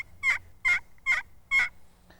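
Four sharp, evenly spaced yelps from a Shady Lady laminated pot turkey call, each a crisp raspy note with a smacking edge, played close and clear with a faint fifth note trailing off.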